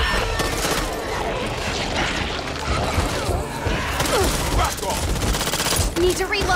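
Dense, continuous automatic gunfire and chaotic combat noise fill a co-op round of the video game Back 4 Blood, loud and sustained with bursts overlapping, while players talk over the shooting.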